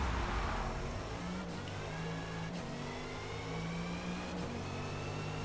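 A 2021 Audi RS 6 Avant launching hard in Forza Motorsport at Road Atlanta, its engine note climbing steadily through the gears with brief dips at each shift, loud and continuous.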